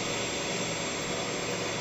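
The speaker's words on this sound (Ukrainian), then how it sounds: "ми зараз розгонимо асинхронну машину на 1600 обертів" An asynchronous induction motor on a laboratory test bench runs up toward 1600 rpm, giving a steady, loud whirring hum with a broad airy whine and no talk over it.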